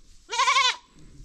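A goat gives a single loud, wavering bleat lasting about half a second, close up, with quiet surroundings before and after.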